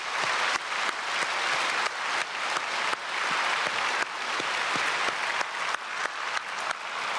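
A church congregation at a Sunday worship service breaks into sustained, dense applause, many hands clapping together in a steady wash that holds for several seconds with no talking over it.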